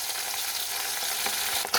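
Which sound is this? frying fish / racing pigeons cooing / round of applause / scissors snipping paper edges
frying fish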